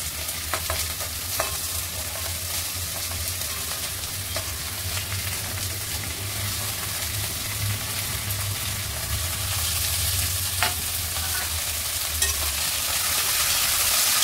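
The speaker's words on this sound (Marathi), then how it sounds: "मस्त हलवून घेऊया, कढी मिक्स करून हलवून घेऊया" Drumsticks, potatoes and brinjal frying in a pan give a steady loud sizzle, with a spoon stirring and scraping through the vegetables from time to time, close up and with no talking.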